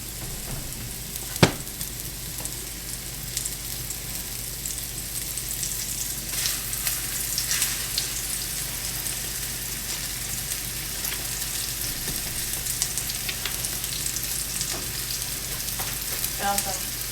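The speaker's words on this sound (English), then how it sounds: "we're just gonna brown these on both sides for a couple of minutes" Flour-dredged pork chops brown in a hot pan with a continuous, moderate sizzle and spatter, opening with a sharp knock as they are set down and a few faint clicks and scrapes later.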